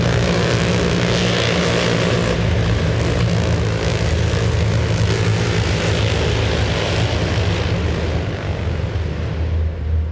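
A loud, continuous rotor and engine roar of MH-60 military helicopters stays close and steady throughout, with low throbbing beneath a broad rushing noise.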